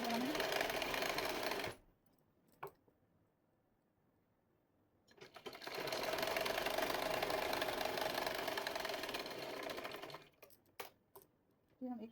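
An electric sewing machine runs fast while stitching a pant seam, in two long bursts separated by a pause with faint handling clicks. It sounds close and mechanical and steady.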